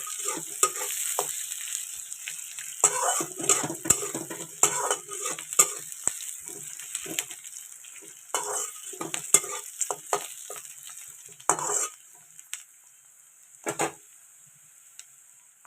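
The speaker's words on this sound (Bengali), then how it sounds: "মাঝে মাঝে আবার কড়াইটা একটু নেড়ে চেড়ে দিচ্ছি। একটু পেঁয়াজ হালকা হালকা ব্রাউন কালারের ভাজা হয়ে গেলে" Onions frying and sizzling in a kadai (wok), with steady hiss punctuated by repeated scraping and clinking strokes of a spatula stirring the pan; no talking.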